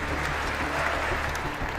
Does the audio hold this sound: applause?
yes